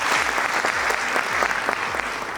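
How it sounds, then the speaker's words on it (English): Conference audience of several hundred people applauding, a dense, even roar of many hands clapping at once, sustained and fairly loud with no voices over it. "So I want to give a clap to all of us for making this happen."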